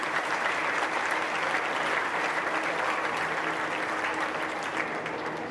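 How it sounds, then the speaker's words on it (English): An audience at a 4-H showmanship event in Putnam County claps steadily, a dense, even wash of many hands that stays loud throughout, with no talking. "Give her a round of applause."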